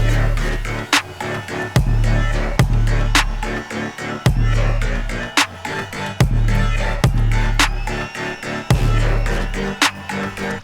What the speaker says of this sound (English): And then I added a string.